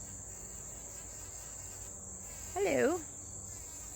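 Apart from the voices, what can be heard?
bees buzzing around garden flowers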